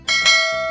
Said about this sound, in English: There's a bell still ringing.